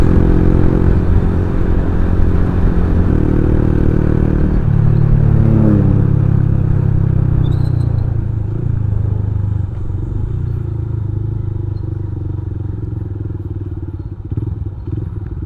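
A Honda Verza motorcycle rides along with a steady low engine drone and some clattering, the note dipping briefly as if shifting gear, then settling into a constant hum close to the rider.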